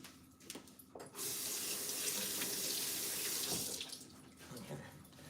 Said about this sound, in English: So I'm going to rinse this just to get the seeds out.